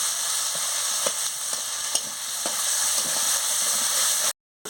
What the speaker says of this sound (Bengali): এবার টমাটো কুচিটাও দিয়ে দিচ্ছি, দিয়ে ভালো করে মশলাটাকে কষিয়ে নিচ্ছি।